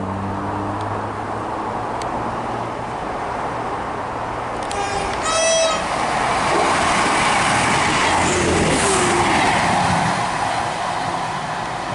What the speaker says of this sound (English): passing through now is an Arriva Trains Wales service from Fishguard Harbour to Cardiff Central